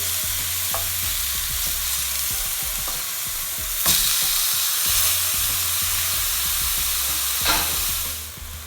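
Lebanese kofta burger patties fry in a pan with a steady, loud sizzle and crackle, broken by a couple of sharper bursts as the patties are flipped, with no talking.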